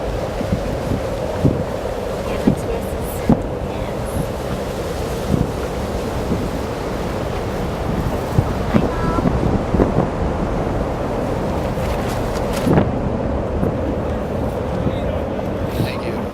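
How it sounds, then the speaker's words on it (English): Strong wind buffets the microphone on an exposed Kilimanjaro mountainside, roaring steadily and loudly throughout with gusty bursts, without speech. "It's just been very, very windy, and so we're in a very exposed place at the moment."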